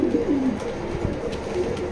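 Pigeons in a racing-pigeon loft give low, steady cooing calls, close and continuous for the whole stretch, with no voices present.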